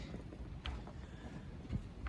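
Strong, cold winter wind buffets the microphone with a low, constant rumble and occasional gusty thumps, steady throughout with no talking.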